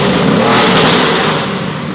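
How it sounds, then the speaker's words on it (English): A turbocharged Mercedes-AMG GT engine revs hard and loud with a broad roaring rush and a rising turbo whine, holding steady before easing slightly. "Oh, I can hear the turbos then."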